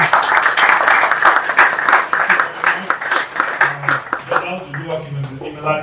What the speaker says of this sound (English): a round of applause for Ron